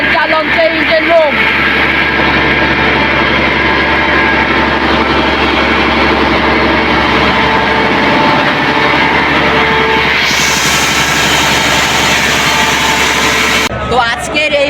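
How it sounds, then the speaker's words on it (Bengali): A loud, continuous engine drone fills the engine room of the passenger launch MV Farhan 4 on the Monpura–Hatiya river route, a heavy, steady hum heard up close with voices over it. "এই হচ্ছে ফারহান 4 লঞ্চের ইঞ্জিন রুম।"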